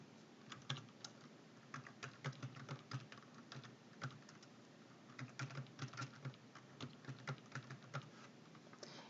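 Fast typing on a computer keyboard while entering text into a spreadsheet, a dense run of light clicky keystrokes in quick bursts, close and quiet with no talking.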